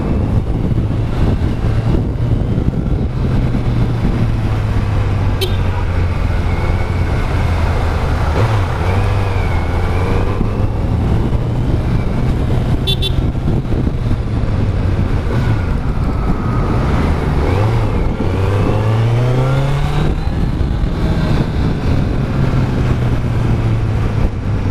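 A stock Kawasaki Z900 motorcycle engine hums and rumbles steadily on a ride. Its pitch rises and falls with throttle changes under constant wind noise, and there is no talk.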